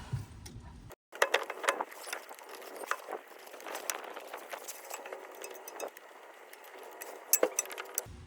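Metallic clinks and ratcheting clicks as corroded brake caliper screws are wrenched loose on a 10th-generation 2016-2021 Honda Civic, in an irregular run of close, moderately loud clanks with short pauses.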